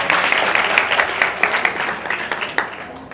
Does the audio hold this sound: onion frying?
no